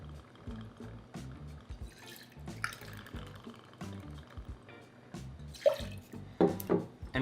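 Two ounces of rye whiskey go into a measuring jigger for a cocktail, a quiet run of trickling and dripping with small glassy clinks near the end, close and soft with no talk.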